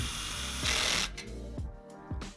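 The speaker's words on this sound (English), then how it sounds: "Just pop a bolt through the underside, thread on a nut, and then tighten everything down" Bolts and nuts being tightened on a woodworking shop project: bursts of mechanical whirring mixed with sharp metallic taps and clicks, fairly close, with no talking.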